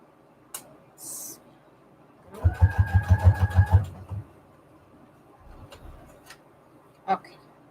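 A sewing machine stitches fabric scraps onto small junk journal tags in one rapid burst of about a second, a close mechanical chatter. Quiet handling noises and a few clicks come before and after it.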